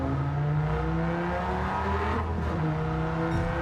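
A V10 race car engine screaming at high revs in a racing video game, a loud continuous harmonic wail with slight pitch shifts as it holds speed, no voices over it.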